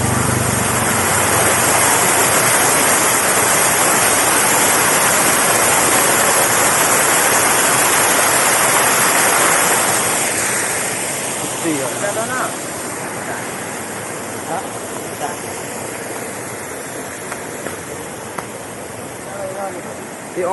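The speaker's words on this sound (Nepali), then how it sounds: "यहाँ चाहिँ हाम्रो सानो खोला छ" Continuous rushing water of a small stream in the Pokhara Valley, Nepal, loud and close, easing somewhat partway through while faint other sounds come and go.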